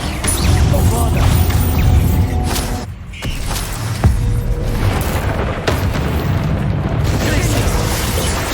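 A Bombarda blast spell goes off in the game Hogwarts Legacy, a loud, rumbling explosion with a booming low end and crackling debris. It sits amid constant combat noise and shouted game voices.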